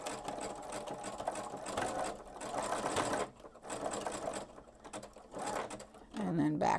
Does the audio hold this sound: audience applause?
no